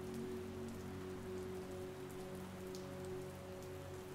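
Steady rain falls through an oak forest canopy, a dense continuous hiss of drops pattering on leaves and surfaces with no voices, even and unbroken throughout.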